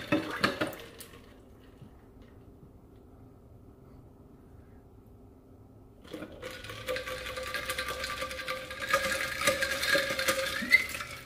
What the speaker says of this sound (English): so now I'm going to stick it in this ice cold water.